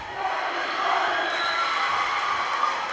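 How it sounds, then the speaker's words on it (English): High school volleyball crowd at a Fort Collins vs Fossil Ridge match cheering in a gym, a steady wash of yelling and roaring that stays loud and even throughout, with no distinct claps standing out. "Fairly exercised crowd right now"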